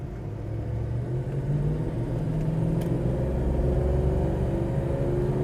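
A 1969 Dodge Dart with a 342 engine rumbles steadily while driving on the road, a low continuous drone that swells slightly as it goes, with no voices over it.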